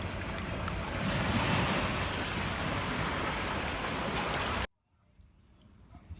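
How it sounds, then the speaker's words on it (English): Ocean surf washing onto a beach where fishing lures are being picked up along the shoreline, a loud continuous roar of breaking water and wind that cuts off abruptly, leaving a faint low rumble. "The waves are working in my favor."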